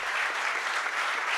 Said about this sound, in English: Big applause, by the way.